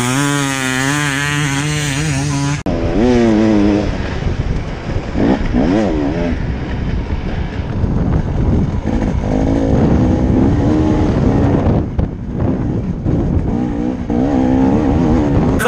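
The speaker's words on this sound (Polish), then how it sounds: "Cały czas napływa fala nowych zawodników, fala motocykli." A wave of enduro motorcycles at the Red Bull 111 Megawatt hard enduro race, many two-stroke engines revving and screaming at once in a loud, continuous, overlapping roar close by.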